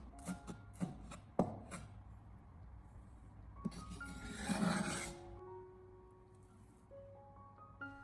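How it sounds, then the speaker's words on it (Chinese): A knife chops scallions on a cutting board in a quiet kitchen, a quick run of crisp close taps early on, then a softer rustling stretch and low background hum. "我们将它改刀切成小葱花"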